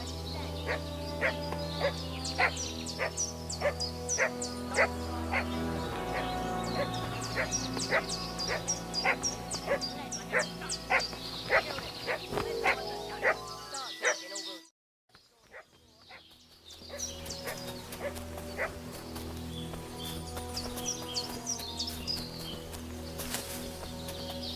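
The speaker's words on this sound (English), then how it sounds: "What's that dog making such a fuss about?" A dog in the medieval game Kingdom Come: Deliverance II barks repeatedly in sharp, rhythmic bursts over steady game ambience and music, breaking off briefly midway before the ambience returns.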